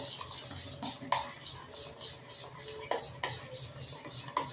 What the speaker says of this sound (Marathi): आणि आता हे फेसून घेणार।